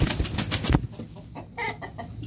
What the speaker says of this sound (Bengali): আরেকটা ব্রাহ্মা লাল মুরগি আছে